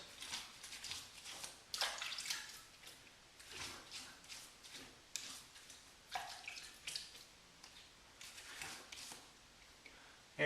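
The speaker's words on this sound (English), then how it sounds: "perform the final rinse" Water from a tap splashes and trickles in short bursts while a face is rinsed after a razor shave with a Schick Injector single-edge razor, with wet swishes and drips close by but faint.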